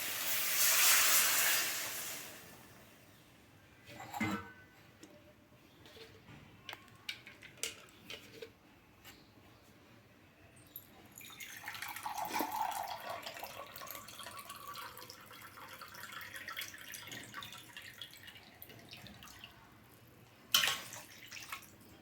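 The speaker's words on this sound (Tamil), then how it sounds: "இந்த டயத்தில் தண்ணி ஊற்றிடணும்" Water poured into a pan of tomato and onion while cooking wheat rava upma, a loud splashing pour at the start, then quieter sizzling, hissing and clinks.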